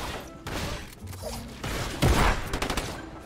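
Gunfire cracks out in a Fortnite Battle Royale match, a loud burst of rapid shots and impacts with one heavy blast in the middle, over busy game noise.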